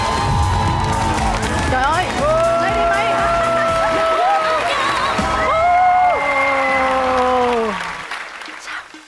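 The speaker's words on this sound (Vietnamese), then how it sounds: "Thưa quý vị, chúng ta vỗ tay cho nhân vật bí ẩn đầu tiên xuất hiện." A studio audience applauds and cheers loudly for a mystery guest on a Vietnamese TV game show, with sustained clapping and whoops. Hosts talk and exclaim over the applause before it fades near the end.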